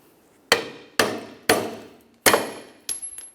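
A hammer drives studs out of a backing plate bracket from a 1994-2002 Ram 2500 on a workbench, giving five sharp metallic blows at roughly half-second intervals, loud and close, with a faint ringing after the fourth strike.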